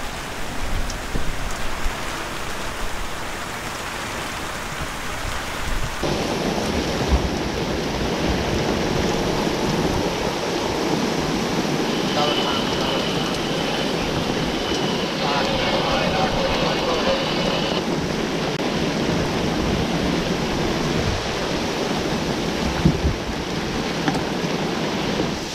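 Squall wind and rain hit a reefed sailboat at sea near St Lucia during an Atlantic crossing, a steady loud rush of wind and rain that thickens after the first few seconds and holds throughout.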